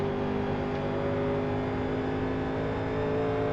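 Steady, loud race car engine drone from a 1987 NASCAR stock car at part throttle on the Kentucky oval in iRacing, holding an even pitch throughout with no voices.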